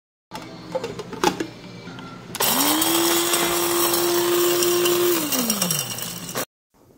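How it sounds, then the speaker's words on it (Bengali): A kitchen blender grinds whole spices, cloves and fennel seeds among them, for a mutton kosha masala: after a few clattering knocks it spins up into a loud, steady whirring drone for about three seconds, then winds down. "এবার ভালো করে সবগুলো ব্লেন্ডারে ব্লেন্ড করে নিতে হবে"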